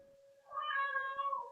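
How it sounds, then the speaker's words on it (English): A single drawn-out cat meow, clear and fairly close, rising over a faint steady hum with a few soft clicks. "Who's mistreating the kitty?"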